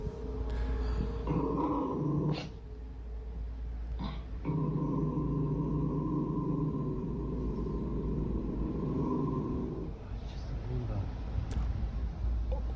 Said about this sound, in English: I think it's a dog.